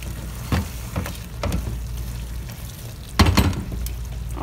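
Lemon pepper chicken with green coriander, green chillies and black pepper sizzles steadily in a pan while a spoon stirs it, giving a few distinct scraping strokes over the constant frying hiss.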